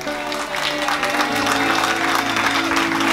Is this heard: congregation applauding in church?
yes